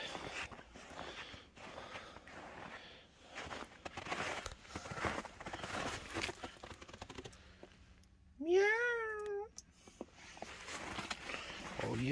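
A cat meows several times in quick succession, a clear rising-and-falling cry near the end after a stretch of shuffling footsteps and handling noises, close by around an old Chevy truck.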